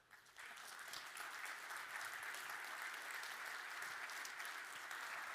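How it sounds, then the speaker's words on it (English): Conference audience at a panel discussion breaks into applause as the panel is invited onstage, a sudden swell of many hands clapping that stays steady and even, heard from a distance in a large room. "please welcome them with a round of applause."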